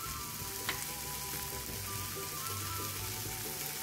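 Rice frying in a pan as it turns golden, a steady, even sizzle with faint crackle throughout and no voices.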